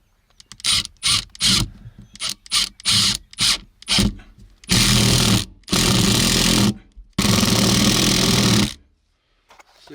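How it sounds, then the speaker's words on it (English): Close, loud scraping and creaking of a wooden floor joist being pried with two hammers: a quick run of short rasping strokes, then three longer grinding pulls, with no talking. "we're going to try and use 2 hammers to pry on it"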